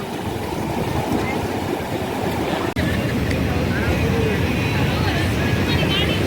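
Sea waves wash onto the shore at Dwarka with a dense, continuous roar of surf mixed with wind rumble, loud and close throughout.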